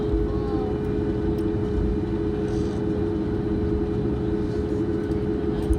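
A Southwest Airlines jet at LAX, bound for Las Vegas, holds a steady, loud engine drone with a constant tonal hum and deep rumble, heard from inside the cabin before takeoff.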